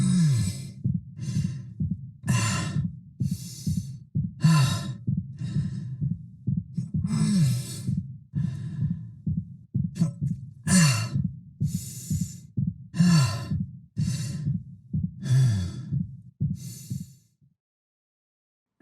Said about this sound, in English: hearing those injured winces, those fatigued breaths mixed in with his regular breathing actually sounds quite natural